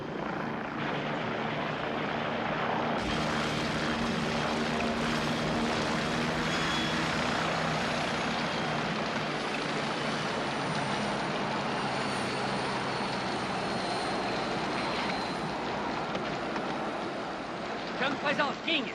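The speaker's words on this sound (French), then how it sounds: "Voilà votre hélicoptère." A helicopter whirs loud and steady with a broad rotor and engine roar that swells after a few seconds and holds, with voices speaking underneath during a hostage rescue scene.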